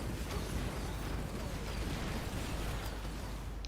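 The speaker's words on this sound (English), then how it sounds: "I couldn't survive the big explosion because it's super long" A big, long-lasting explosion attack in the action RPG Warhammer: Chaosbane, a dense, continuous roar of crackling bursts and rumble that holds steady and fairly quiet throughout with no clear break.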